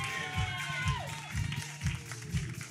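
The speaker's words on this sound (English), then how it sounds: "Clap it up one more time." Applause from an audience at a community event, a fairly steady wash of clapping with low thumps and faint voices mixed in.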